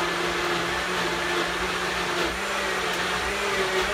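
A blender runs steadily and loudly throughout, a continuous whirring motor drone with no pauses and no voices.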